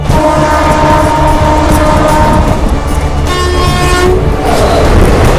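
A loud horn on the 12748 Vikarabad–Guntur Palnadu Superfast Express blares in long sustained blasts over the heavy rumble of the train passing at about 110 km/h, very close.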